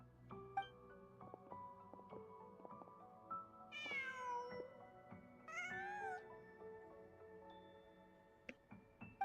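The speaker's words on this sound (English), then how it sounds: "Just a cat." A cat meows twice in Genshin Impact, two rising, nasal calls heard clearly over soft, tinkling game music and ambient tones.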